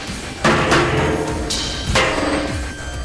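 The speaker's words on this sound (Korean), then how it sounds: "이번에는 대놓고 망치로 공격을 가하기 시작한다" Heavy hammer blows strike a massive, thick-walled steel safe, a few loud metallic impacts with ringing resonance spaced about a second apart, close up.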